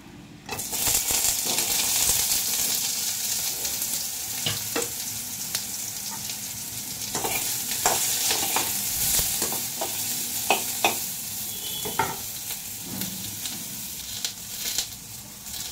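Eggplant fries in hot oil in a pan for a vegetarian side dish, with a continuous close sizzle broken by repeated scraping, clinking stirs of a spatula; no one speaks.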